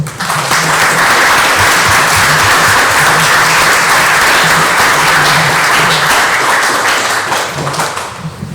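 A loud, sustained round of applause fills the room at a city council meeting, dense clapping with some thumps and no clear speech.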